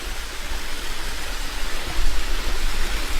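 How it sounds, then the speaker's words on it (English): Steady broadband rush of flowing water, constant and fairly loud, swelling slightly toward the end with no voices. "There's a lot of water flowing through there."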